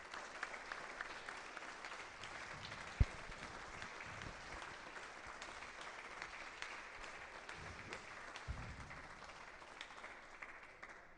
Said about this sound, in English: So if everybody could just give a round of applause to all the patrons.